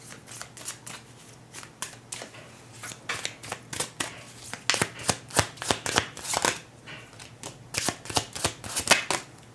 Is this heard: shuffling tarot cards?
yes